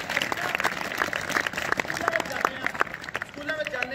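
Audience applause at an outdoor nukkad natak, a street play on Punjabi culture at Patiala university: dense, steady clapping over a lively crowd, with voices carrying through the noise for the full stretch.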